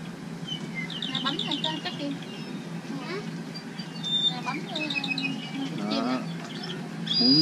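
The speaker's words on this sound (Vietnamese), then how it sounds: "Mình muốn nghe tiếng chim nào mình bấm tiếng chim đó thôi đó." Recorded bird calls played at the press of buttons on a bird-sound display in Hawaii Volcanoes National Park, chirps and whistles repeating over several seconds while people chat nearby.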